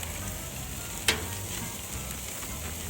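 Lamb chops sizzle steadily on a grill, a constant close hiss broken by one sharp knock or splash as marinade goes over them.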